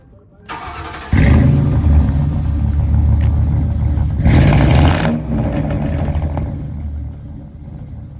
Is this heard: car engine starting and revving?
yes